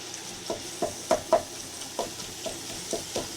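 Ground beef for chili browning in a skillet on the stove, a steady soft sizzle broken by repeated scraping and stirring knocks at an irregular pace, close by, with no talk.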